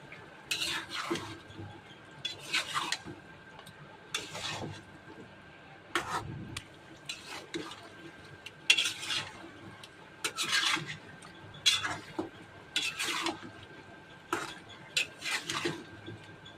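Meat with chunks of papaya and potato being stirred in a pot, bursts of scraping and rubbing against the metal recurring every second or so at moderate loudness, with no talking.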